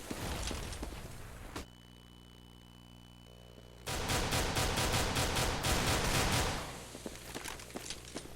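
Pistol gunfire in a CS:GO competitive match, heard as scattered sharp shots early on, then a dense rapid burst of repeated cracks mid-clip, followed by lighter clicks and footstep-like sounds.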